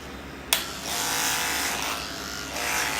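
Electric hair clippers fitted with an A5 large blade start with a click and then run as a steady, close buzzing whir that wavers slightly in strength.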